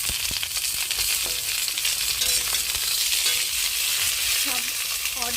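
Beans and cauliflower frying in hot oil, a loud, steady sizzle that runs unbroken throughout with occasional faint stirring clinks underneath.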